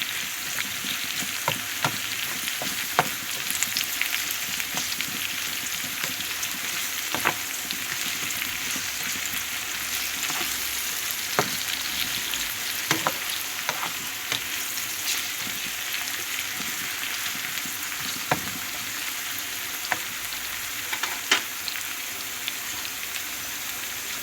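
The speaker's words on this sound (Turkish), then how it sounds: "Bir sürede biberlerimle soğanlarımı soteleyeceğim." Sliced peppers and onions sauté in a pan with a dense, steady sizzle like light rain that runs throughout, broken now and then by soft crackles and occasional quiet stirring taps.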